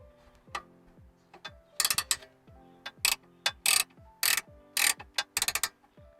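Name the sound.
unthreading tie rod end nut on a 2010 Ford Mustang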